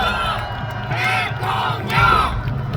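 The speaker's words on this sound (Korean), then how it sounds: "여러분 큰 박수와 함성으로 맞아주시면 고맙겠습니다." A crowd at an election campaign finale rally in Seoul Plaza, rhythmic chanting and cheering that rises in repeated pulses, with loud shouting over a continuous crowd roar.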